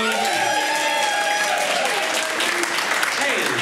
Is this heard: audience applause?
yes